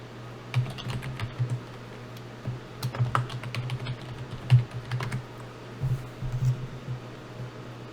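Rapid keystrokes on a computer keyboard while a new password is typed at a Windows Server 2012 R2 sign-in screen, with light, irregular clicks in short bursts over a quiet, faintly humming room.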